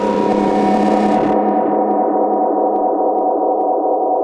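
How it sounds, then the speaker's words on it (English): A Bitwig sample run through a saturator and a long delay with feedback turned all the way up, giving a sustained distorted drone. A broad burst cuts off early, and steady tonal layers ring on alone for several seconds. "Gives it that real long feedback, that drone sound, because on the delay I turn the feedback all the way up."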